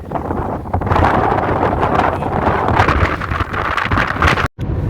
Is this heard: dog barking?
no